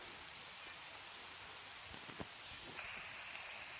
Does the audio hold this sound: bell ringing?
no